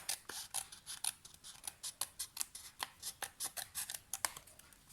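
Scissors snip through card while a handmade greeting card is trimmed, a quick series of crisp, close cuts coming in a steady rhythm with no talking.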